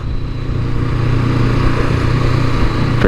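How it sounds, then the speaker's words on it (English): A brand new Honda NX500 motorcycle rides along English roads, its engine a loud, steady low drone mixed with wind and road rumble, constant throughout with no speech. "got a brand new Nx500, 4-hour ride back from Milton Keynes"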